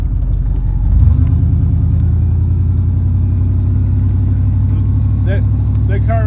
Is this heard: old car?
yes